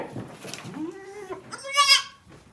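A goat wearing a coat gives a loud, close, wavering bleat that rises toward the end, alone with no other sounds.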